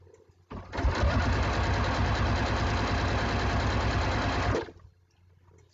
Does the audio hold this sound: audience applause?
no